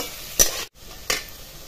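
Onions being stirred as they fry in a pan for amti, with two short scraping sizzle bursts over a steady background frying hiss.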